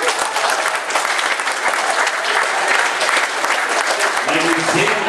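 A hall full of people at a diploma ceremony applauds the teachers who supported the graduates, brisk continuous clapping at close range, with a voice starting to speak just before it ends.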